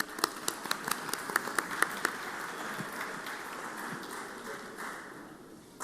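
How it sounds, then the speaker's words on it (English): Applause fills the Mississippi Senate chamber on the floor during a session, a steady crowd clapping that goes on for several seconds, with sharp individual claps standing out early on. "Let's give them a round of applause from the Senate."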